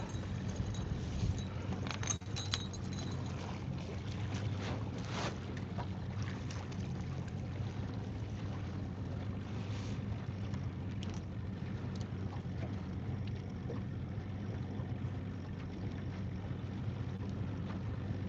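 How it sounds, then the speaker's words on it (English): Strong wind roars steadily over a lake around a small fishing boat, with dense low rumble and gusty buffeting on the microphone continuing throughout, with no speech. "Whoa, that wind is picking up."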